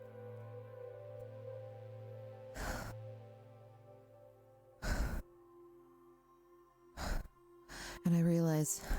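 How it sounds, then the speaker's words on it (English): A person breathes heavily in several sharp, loud gasps spaced a few seconds apart, rising over a steady low tonal drone and growing more ragged toward the end. "all I can hear now is the sound, I think, of my breathing."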